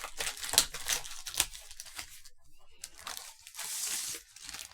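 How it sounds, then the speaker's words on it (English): Packaging of a Veikk A50 graphics tablet being ripped open by hand, heard as close crinkling and tearing of paper or plastic in several rough bursts, with a steadier rustle near the end and no talk. "So I'm just gonna rip this open."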